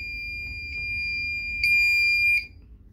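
Button beeps from a Bosch washing machine, two short high electronic beeps followed by a longer sustained tone, clear and close against a quiet background.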